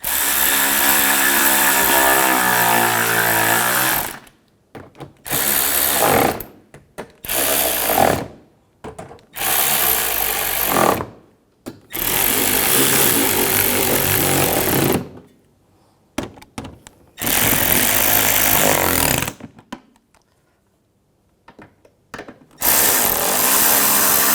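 Power tool driving in grille screws while a BMW 550i from the 2006-2010 years has its grilles replaced, loud and close, in repeated bursts of whirring separated by brief silences, with no talking.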